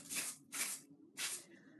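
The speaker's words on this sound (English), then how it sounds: "I'm gonna use hairspray because I do have locks" Hairspray is sprayed onto dreadlocks in three short, close hissing bursts separated by brief pauses.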